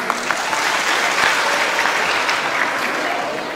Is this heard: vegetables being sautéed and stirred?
no